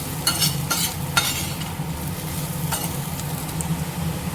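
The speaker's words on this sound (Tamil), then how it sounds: "ஒரு 5 நிமிஷம் இப்படியே பரட்டிக்கிட்டே இருக்கலாம்" Potatoes with chili powder being stir-fried in a pan for a poriyal, with a sizzling fry underneath and several distinct scraping spatula strokes in the first seconds, then steady frying.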